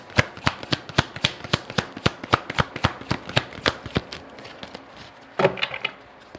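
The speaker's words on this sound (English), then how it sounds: "So let's pull some cards to see what comes out." A deck of tarot cards shuffled up close, a fast regular run of crisp riffling snaps, ending in a louder clustered flutter as the cards settle.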